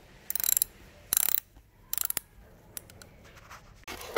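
A ratcheting tool backs out a screw on the pull start of a Losi 5ive-T 2.0, with a broken pull start: four quick bursts of sharp clicking, close and clear, separated by short pauses with a few stray ticks, no talking.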